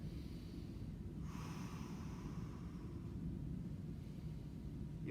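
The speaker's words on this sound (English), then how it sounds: "And I just want you to take a few deep breaths there." A faint, slow, deep breath during a hip mobility stretch, a drawn-out airy exhale over a steady low room rumble with no talking.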